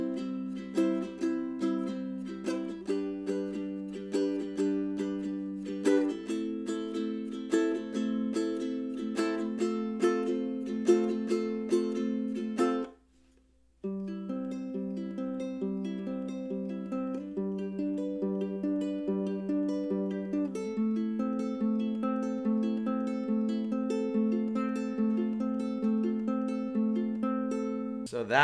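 An inexpensive ukulele bought on Amazon is strummed and picked in a bright melodic pattern, clear and alone, with a brief pause midway before the playing resumes.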